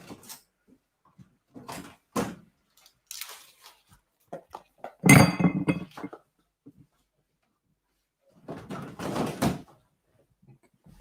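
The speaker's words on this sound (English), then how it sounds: "Put a big lump of ice in there." A big lump of ice drops into a smoked glass with one loud, close clunk and brief ringing, amid scattered clinks and handling sounds before and after.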